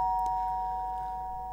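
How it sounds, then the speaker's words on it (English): A doorbell chime sounds once in a quiet home, a steady electronic tone that fades out slowly. "Huh, that was the doorbell just now."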